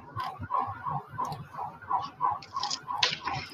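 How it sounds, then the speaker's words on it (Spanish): An alarm siren sounds outside amid busy street traffic, pulsing in a rapid, regular rhythm at moderate volume, somewhat distant, with faint clicks and noises over it. "Una alarma sonando."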